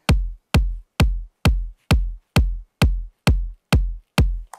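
A kick drum sample from an Arwell Music pack plays about ten times in a row at an even pace. Each hit is punchy and loud, with a short booming low tail, and there are clean gaps of silence between them.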